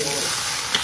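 Fried snacks sizzle in hot oil at an Indonesian food stall, a steady close hiss of frying that fills the short moment without a break.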